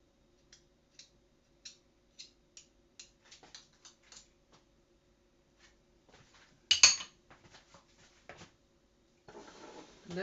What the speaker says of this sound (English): Taking a little spoon of honey.